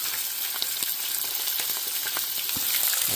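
Onions and mushrooms fry on a hot plate beside a roll outdoors at a river sluice, giving a steady, dense sizzle with faint crackles and no talking.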